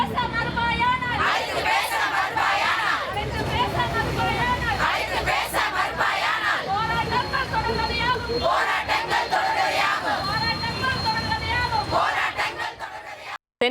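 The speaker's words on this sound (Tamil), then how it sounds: "மீண்டும் வட்டாட்சியர் அலுவலகம் முன்பு திரண்டு சத்துணவு பணியாளர்கள் போராட்டத்தில் ஈடுபட்டனர்" Nutrition workers protesting outside a taluk office chant slogans together in loud rhythmic bursts, with a leader's calls answered by the crowd and continuous crowd noise throughout.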